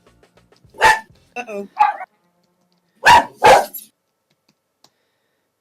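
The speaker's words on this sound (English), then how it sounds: "Except the dogs." Dogs barking, a few sharp close barks heard in two short bursts separated by a pause, with a brief spoken remark between them.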